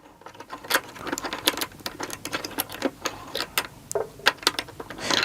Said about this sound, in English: Now using a quarter, simply unscrew the pivot bolt.